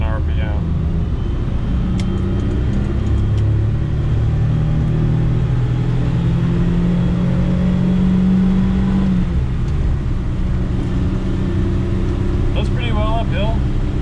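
A car engine holds high revs while climbing uphill, a loud sustained droning rumble with rising and falling pitch under steady road noise, and a voice talks over it throughout.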